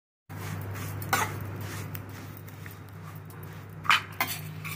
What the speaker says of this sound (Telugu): సేమ్యాలు బాగా వేయిస్తాము.